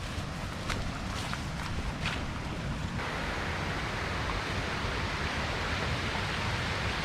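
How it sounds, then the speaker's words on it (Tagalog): Continuous rushing water of a creek near Kipot Falls, Rodriguez, Rizal, a broad steady hiss heard up close, with a few footsteps crunching at the start. "narinig ko na yung tubig eh"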